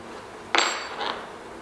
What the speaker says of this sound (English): on this side, we have a nut. A deep socket's best for this.